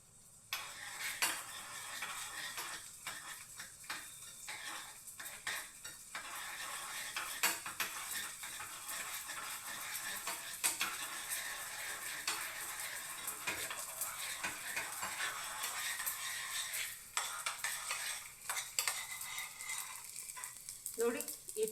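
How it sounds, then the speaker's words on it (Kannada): Edible gum frying in ghee in a pan for sabudana laddu, a busy crackling sizzle with frequent metal spoon scrapes and clinks against the vessel, steady and close throughout with no talking. "ಅಂಟನ್ನು ಫಸ್ಟು ತುಪ್ಪದಲ್ಲಿ ಫ್ರೈ ಮಾಡ್ಕೊತೀನಿ."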